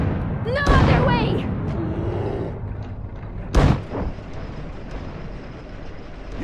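Gunfire and artillery from the video game Iron Harvest: a couple of sharp booming blasts, one near the start and a strong one midway, over rumbling battle noise and faint voices.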